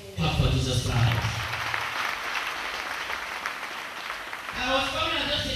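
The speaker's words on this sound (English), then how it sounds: "Clap for Jesus Christ." A church congregation claps along during a prophetic service in Cameroon, steady clapping filling the room for several seconds while a voice speaks over it at the start and again near the end.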